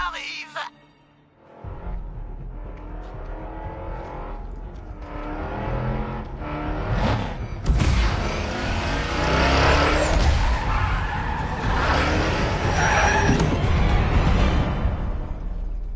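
The Batmobile in a video game drives hard with revving engine, screeching tire skids and rumbling, a loud continuous run that swells midway.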